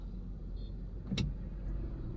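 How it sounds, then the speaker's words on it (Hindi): Cars on a road approach from the left while a learner car waits at a junction. A steady low road rumble carries one brief, moderately loud whoosh of a vehicle passing close by partway through. "ये देखिए लेफ्ट साइड से गाड़ियां दौड़ती आ रही है"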